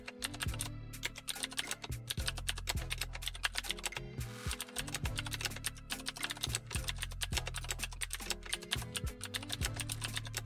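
Rapid typing on a computer keyboard, dense quick clicking keystrokes in a steady close rhythm with brief pauses, heard alone with no speech.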